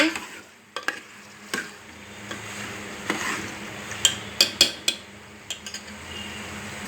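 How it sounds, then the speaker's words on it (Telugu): Chicken sizzles in a hot pan while a utensil stirs it, with a steady frying hiss and irregular scraping clinks that cluster toward the end. Nobody speaks. "చికెన్ వేసేసాక ఇప్పుడు ఈ చికెన్ని కలుపుకోవాలండి"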